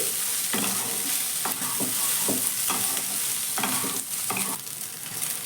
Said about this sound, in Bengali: আমি কিন্তু নাড়াচাড়া করে সয়াবিনটা খুব সুন্দর করেই ভেজে নিচ্ছি